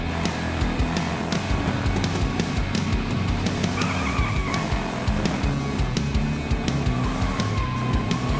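Hot Wheels video game toy car racing with continuous engine whine and repeated tire squeals and skids, loud and close throughout with no talking.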